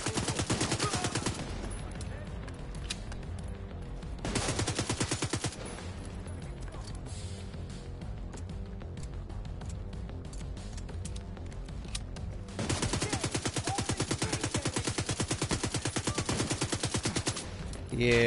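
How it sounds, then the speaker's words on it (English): Rapid bursts of SMG gunfire in a first-person shooter video game, loud dense rattling volleys with short pauses between them and a sustained barrage in the middle, no voices. "SMG from range is garbage."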